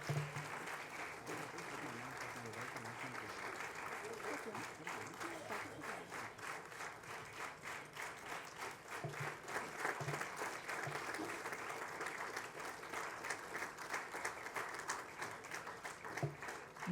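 Sustained applause from an audience at the opening session of a Hyderabad literary festival, steady dense clapping running throughout with crowd murmur and no clear speech.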